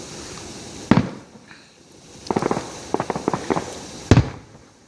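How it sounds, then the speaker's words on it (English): Fireworks go off on a December night in Steamboat Springs, Colorado, with a single sharp boom followed by clusters of rapid crackling bursts and another heavy boom, echoing moderately close. "I don't know why they're putting fireworks off."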